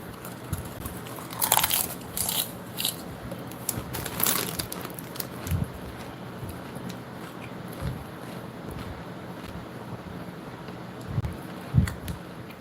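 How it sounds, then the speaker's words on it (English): Crunchy Doritos chips being bitten and chewed near the microphone, a few crisp crunches early on and scattered softer bites later over faint background noise and wind. "Sorry if I start eating in between."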